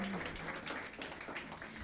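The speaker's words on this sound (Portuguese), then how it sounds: "Sabe, aplaude, gente" Congregation applauding during a family church service, a brief burst of dense clapping with voices faintly underneath.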